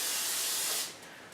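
Cooking spray hisses from a can into crocks, one loud steady burst that cuts off after about a second, leaving quiet room noise.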